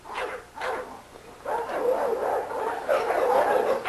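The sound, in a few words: dog barking in a kennel yard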